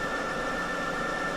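A 1952 Moore No. 2 jig borer spins at 1,682 RPM, cutting aluminum in a steady machining whine with a sharp high tone over broad noise, continuous and close.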